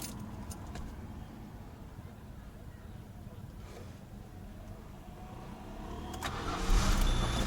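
A Peugeot 406 V6 cranks on its starter motor before firing, a low mechanical churn that swells toward the end, with someone talking over it.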